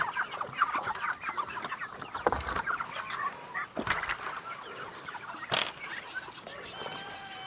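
Morning on a homestead brings a flock of chickens clucking busily nearby, with overlapping calls and a few sharp bursts of wing flaps or knocks.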